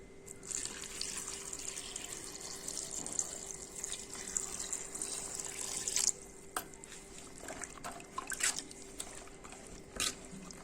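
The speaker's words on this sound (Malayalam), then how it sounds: "നമുക്കിതിലേക്ക് വെള്ളം ഒഴിച്ച് കൊടുക്കാം" Water is poured into a pot of shallots, curry leaves and turmeric for a prawn curry with jackfruit seeds, raw mango and drumstick, a faint, continuous trickle and splash with a few small drips toward the end.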